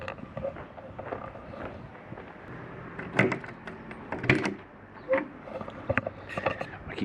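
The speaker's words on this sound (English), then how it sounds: "opening the door with the key," A key turns in a farm tractor's cab door and the door clicks and creaks open in a few sharp, close knocks and rattles over a low engine-like background.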